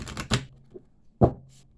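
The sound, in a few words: shuffling tarot cards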